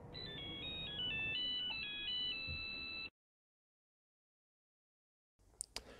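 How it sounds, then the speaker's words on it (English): The Nokia tune, a bright electronic ringtone, plays a short melodic phrase of beeping notes for about three seconds, then cuts to silence before faint clicks and rustling. "the Nokia tune"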